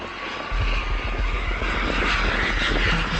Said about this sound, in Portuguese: Este é um avião da Balada Eventos, de Gustavo Lima